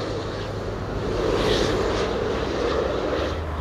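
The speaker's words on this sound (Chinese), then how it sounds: "中华航空的 A350-900，准备要降落喽。" A China Airlines Airbus A350-900 coming in to land, heard as a steady, broad jet engine roar with light wind noise that swells slightly midway, with no voices.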